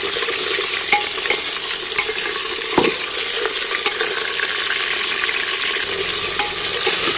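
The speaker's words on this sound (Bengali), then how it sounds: "পেঁয়াজগুলো আমার নাড়বে নাড়বে পেঁয়াজগুলো কিন্তু ভাজা হয়ে গেছে" Whole onions frying in hot oil in a pan for a mutton curry, a loud steady sizzle punctuated by regular clacks and scrapes of a stirring spoon, close up with no talking.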